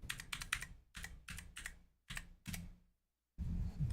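Fingers typing on a computer keyboard, a quick run of clicky keystrokes in small clusters, close and fairly quiet, then a brief silence before a burst of louder noise.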